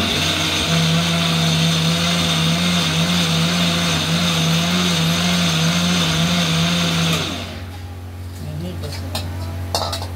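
An electric grinder whirs loud and steady, close by, while blending soaked lentils into a smooth paste for kofta fritters, then stops abruptly and is followed by quieter background sounds and faint clinks.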